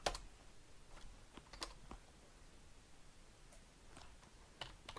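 Typing a command on a Raspberry Pi 4 computer keyboard, faint scattered key clicks at an uneven pace, close and quiet with no talk.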